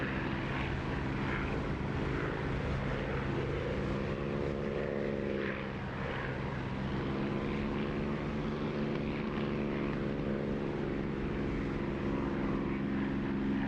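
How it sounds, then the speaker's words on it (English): Propeller aircraft engine from the DCS flight simulator, a steady loud drone with layered harmonic hum held throughout, swelling slightly near the middle with no talk. "have a listen for that increased engine volume"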